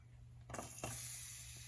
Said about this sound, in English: Adding more oil. We're going to fry the garlic.